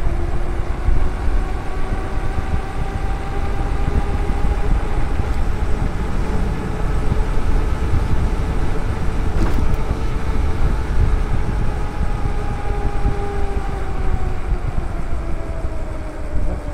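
A Graffiti X electric bike riding and pulling away smoothly, with a steady loud rush of wind and road noise and a faint rising motor whine across the whole stretch, no voices.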